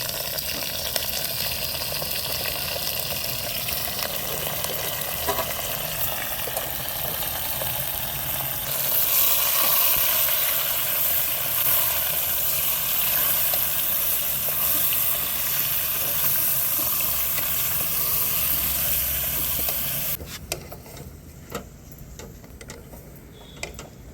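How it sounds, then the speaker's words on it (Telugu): Mutton hits a pan of golden-brown fried onions with a steady, loud sizzling hiss that crackles on, then drops to a quieter simmer in the last few seconds. "ఇప్పుడైతే మటన్ వేసేసుకుందాం."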